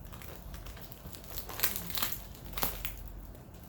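Packing paper crinkles and rustles while a custom pollaxe is unboxed, close and continuous, with sharper crackling bursts in the middle and no talking.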